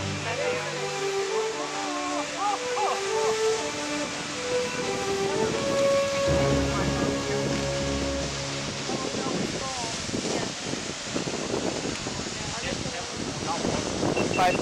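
Rushing waterfall at Catskill Falls in the Catskill Mountains of New York, a steady broadband roar under someone talking excitedly, with tonal layers mixed over the constant wash of water.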